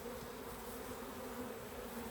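Honey bees buzz around a beehive that may be about to swarm, a dense, continuous hum that stays steady and fairly quiet throughout, with no voices.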